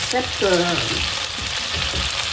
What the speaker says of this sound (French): je vais déglacer ma poêle avec le vinaigre et la sauce soja